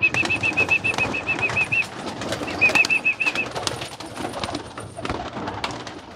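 Pigeons being released outdoors give a few soft coos and wing flaps amid rustling, with a repeated high electronic beeping pattern in two bursts and general background noise.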